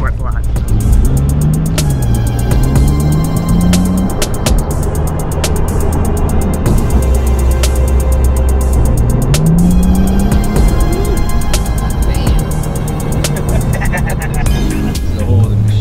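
A 2012 Porsche 911 Turbo with 55,000 miles on it drones loudly and steadily from nearby as the revs rise and fall through downshifts, while people talk over it.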